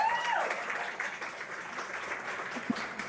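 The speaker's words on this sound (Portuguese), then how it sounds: "Palmas para ela." Soft applause from a small audience at a podcast recording, a brief diffuse patter of clapping heard fairly faintly after a voice fades out.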